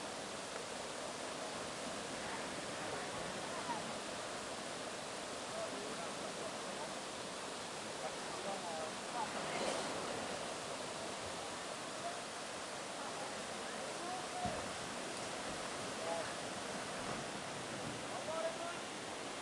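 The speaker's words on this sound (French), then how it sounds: "La cascade." Floodwater pours as a waterfall over a totally blocked road, giving a steady, unbroken rushing roar that stays even and fairly loud throughout.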